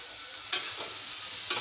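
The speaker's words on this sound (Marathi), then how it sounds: "व्यवस्थित आता परतून घेऊया आता भाजी घालूया" Vegetables stir-fried in a pan, a steady close sizzle broken by two sharp scraping stirs about a second apart.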